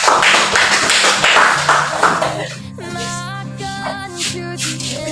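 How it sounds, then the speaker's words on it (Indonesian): A classroom audience claps for group 1 after its discussion presentation, a dense burst of applause for about two and a half seconds that then gives way to sustained tonal sounds. "Kita memberikan aplaus untuk kelompok 1."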